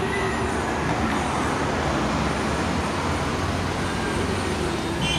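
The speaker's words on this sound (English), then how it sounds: "But you can see vehicles coming down at a fast pace." Road traffic roars steadily and loudly along a roadway as vehicles rush past at speed. A dense, continuous wash of engine and tyre noise fills the whole stretch.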